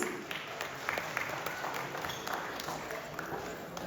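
Audience applause and clapping at a Bengali New Year fair concert in New York, welcoming a singer to the stage; steady dense clapping throughout, moderately loud with crowd murmur.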